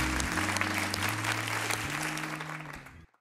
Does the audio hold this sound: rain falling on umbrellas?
no